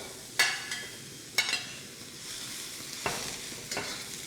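Food fries in a wok while being stirred for Taiwanese cooking, a soft steady sizzle broken by four sharp scraping clacks of the utensil against the metal, close and without speech.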